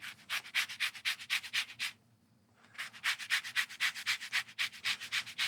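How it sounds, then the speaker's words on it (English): Orange zest is finely grated in quick rhythmic rasping strokes, close and crisp, with a brief pause before the scraping resumes at the same steady pace. "I'm gonna add in 1 tablespoon of finely grated orange zest."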